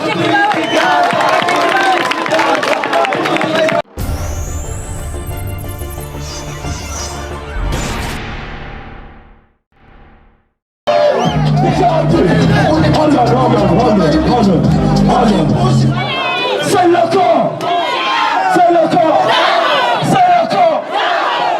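A large crowd at a concert in a car-free zone roars and cheers loudly and continuously, with a break of quieter tones in the middle before the loud crowd noise returns.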